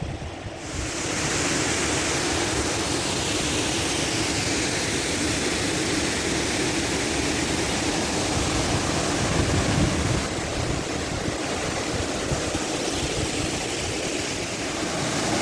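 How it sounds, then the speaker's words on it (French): Steady rushing water roars continuously, like a small waterfall or fast stream, broadband and unbroken, with some wind buffeting the microphone. "Il y a même une petite cascade"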